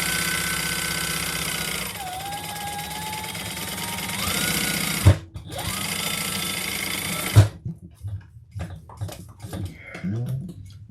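A sewing machine runs in long steady bursts, basting the back pocket of a bag in place, with a brief pause and a thump between runs before it stops, followed by quieter handling noises.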